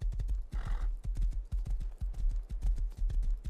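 Horse hooves clip-clopping in the survival video game Rust, a steady rapid rhythm of close, loud thuds continuing throughout with no pauses.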